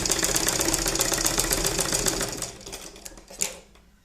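Sewing machine stitching fabric for a baby cap, a rapid, even mechanical clatter running steadily before slowing and stopping, followed by a few isolated clicks.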